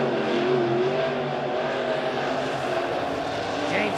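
USRA A-Modified race cars roaring around Springfield Raceway during the A-Main, a steady loud engine drone with shifting pitch from several cars at a distance.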